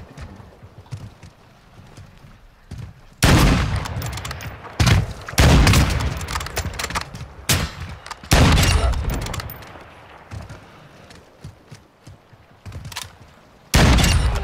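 Sniper rifle shots in a shooting game come as a string of loud, separate cracks with booming tails, spaced a few seconds apart over quiet background noise, and the last one lands near the end.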